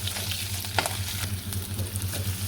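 Sliced onions fry in a pan where fish was just cooked, giving a close, steady sizzle broken by a few sharp clicks and scrapes from stirring.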